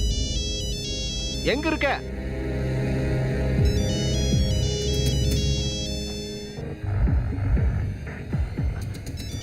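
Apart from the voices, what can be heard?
mobile phone ringtone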